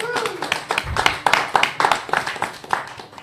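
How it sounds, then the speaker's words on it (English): A small round of applause from the audience at a Green Party candidate forum in Cincinnati, with scattered, sparse claps running briefly under a voice talking. "If we could give them a small round of applause."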